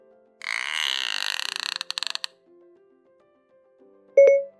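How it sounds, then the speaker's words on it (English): A bottlenose dolphin's squeaky whistling and rapid clicking trains played through a phone's voice assistant last about two seconds, then fade into quiet before a short electronic chime. "A bottlenose dolphin sounds like this."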